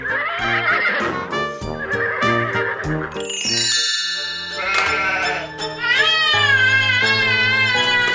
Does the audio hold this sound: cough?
no